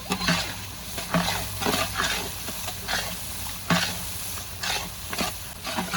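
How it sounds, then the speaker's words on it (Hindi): Garlic-ginger paste sizzles in hot oil with tomatoes and chilies for a 12 kg commercial batch of chicken biryani, with scraping stirring strokes over a continuous close fry and no talking. "ये लहसुन अदरक का पेस्ट डाल देंगे।"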